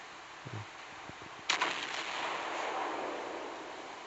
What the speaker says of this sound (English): And the shells go everywhere.